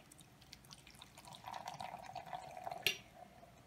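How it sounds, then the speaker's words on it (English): Warm water poured over a couple of chunks of dry ice in a container, giving faint gurgling, dripping and bubbling with a brief splash near the end, quiet overall. "add in some dry ice, probably just like a couple of chunks here, and add in some warm water"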